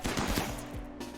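Turrets fire in rapid bursts in the video game Rimworld, quick overlapping pops and cracks that form a short fusillade at moderate loudness before tapering off.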